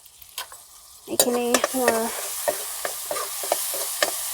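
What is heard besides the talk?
frying colocasia and passion fruit mix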